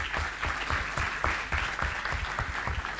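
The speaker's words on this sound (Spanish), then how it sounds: "Un aplauso" Audience at a vegetable breeding conference session claps after a talk, a thick, even wash of many hands with distinct nearby claps popping through, sustained for a few seconds with no talking.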